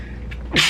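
A single sharp sneeze bursts out near the end, loud and close, after a brief quiet lead-in.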